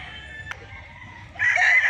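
A gamefowl broodcock crows once toward the end, a loud, strained call rising out of quiet farm background after a brief click.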